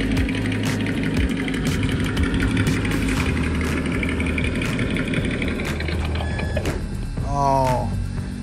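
A Traxxas Undertaker mega truck engine idles with a steady, close, low rumble throughout. Near the end, a brief rising mechanical whir cuts in over the idle.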